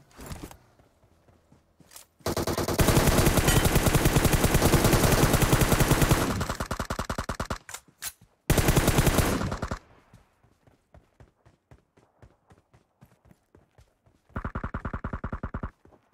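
Bursts of automatic gunfire from the battle royale game BGMI, two long loud sustained volleys with a few shorter shots between, followed by quieter footsteps and a final rapid burst.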